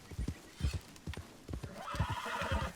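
A horse whinnies and neighs with loud clip-clop hoofbeats in Red Dead Redemption 2, steady close hoof strikes running throughout while a bright neigh rises near the end.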